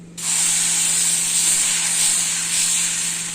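Millet dosa batter meets a hot griddle with a sudden, bright hiss that holds steady and loud for a few seconds, with no one talking.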